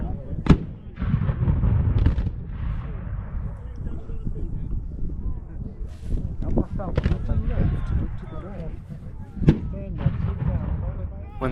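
Cannon booms and rifle shots from a Civil War battle reenactment at Prairie Grove, with Union batteries firing. Sharp, loud reports come at scattered intervals over steady wind rumble, with voices in the background.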